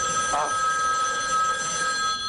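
An old telephone bell rings in a continuous bright metallic trill that carries through the whole moment, close and fairly loud, with a faint voice briefly underneath.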